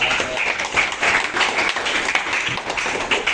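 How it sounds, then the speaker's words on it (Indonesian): A group of listeners claps their hands after a presentation, a steady, moderately loud patter of applause continuing throughout with no voices. "tepuk tangan dulu untuk 10"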